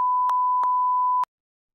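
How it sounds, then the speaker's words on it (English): A stuck beep button sounds one continuous electronic tone, broken by faint clicks, then stops abruptly just past a second, leaving silence. "This damn beep button got stuck."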